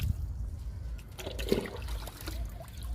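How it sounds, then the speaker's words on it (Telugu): Liquid fertilizer poured onto a moringa (drumstick) plant in a home garden, a soft close trickle and dribble of liquid over low background rumble, with a brief splash in the middle and no talking. "లిక్విడ్ ఇస్తున్నాను మునగ మొక్కకి"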